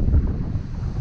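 Strong wind on a mountain peak in Banta, Quezon, buffets the microphone in a low, steady roar, loud and close, with no voices.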